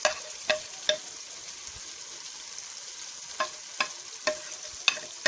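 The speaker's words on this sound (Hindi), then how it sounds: "अब इनको थोड़ी देर भूनेंगे" Spices fried with softened tomatoes in a pan for aloo salan, a steady soft sizzle broken by sharp stirring scrapes and clicks of a spoon at irregular intervals, close by, with no talking.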